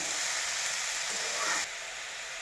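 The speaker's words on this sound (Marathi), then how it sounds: "चिरलेली आणि धुतलेली भाजी त्या तेलामध्ये आणि त्या मिरच्यामध्ये आपण घातलेली आहे ती परतवायची चाललेली आहे" Chopped, washed vegetables sauté with chillies in hot oil in a home kitchen, giving a steady broad sizzle and hiss that drops slightly in level near the end.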